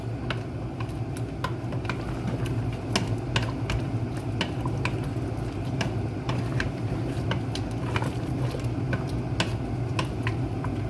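Pork bone kaldereta being stirred in a cooking pot, with a steady run of sharp scraping clicks from the utensil over a soft, constant simmer. The sound is close and moderately quiet, and no one speaks.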